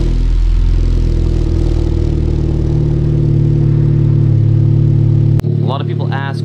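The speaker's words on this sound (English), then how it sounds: "Here's a cold start." A Honda Type R fitted with a downpipe runs after a cold start, its exhaust a loud, steady, close idle drone that cuts off abruptly, after which a person speaks.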